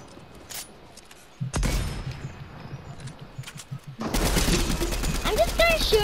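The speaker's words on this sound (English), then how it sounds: "I'm just gonna shoot around you and then just get shots on you." Gunfire in the video game Fortnite, bursts of rapid shots that swell into loud sustained firing over a noisy game mix, with people talking throughout.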